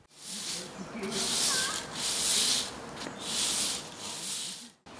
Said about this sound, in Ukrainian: підмітає одну із відремонтованих доріжок у парку